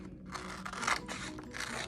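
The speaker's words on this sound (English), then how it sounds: "you're gonna take your scissors and you're gonna cut it in half" Scissors snipping through orange craft paper to cut a sheet in half for a 3D paper pumpkin, a close, dry shearing and crisp rustle running steadily for about two seconds with no talk.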